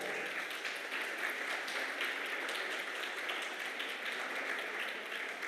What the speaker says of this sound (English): Kommt nach vorne with a big applause.